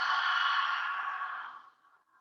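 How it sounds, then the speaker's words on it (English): A slow, steady exhale during yoga breathing, soft and breathy, holding even for about a second and a half before tapering off into quiet. "Exhale."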